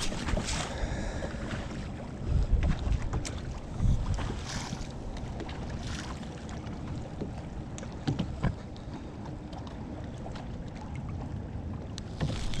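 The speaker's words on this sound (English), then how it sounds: "Pretty windy out here, so hopefully the audio isn't too bad" Steady wind rumbles and buffets the microphone on a fishing boat at Lake of the Ozarks in spring, with occasional gusts and faint knocks and creaks from the hull, fairly quiet overall and no talking.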